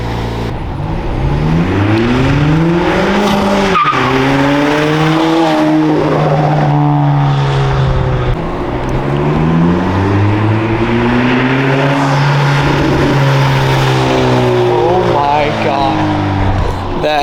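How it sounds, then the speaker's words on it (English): A four-cylinder Honda Civic Sport Touring with a Borla S-Type exhaust revs up repeatedly, its pitch climbing through the gears and dropping off with burbles, with talking over the engine noise. "one thing I didn't expect with this exhaust is the little burbles when you let off."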